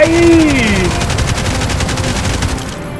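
Loud rapid gunfire in Roblox Jailbreak during a house raid, a fast stuttering burst of shots running throughout while a voice overlaps near the start.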